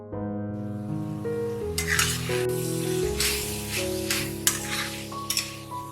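Keema frying in a pan with cumin and coriander powder, a steady sizzle under repeated scraping and stirring strokes and occasional clinks of the utensil against the pan.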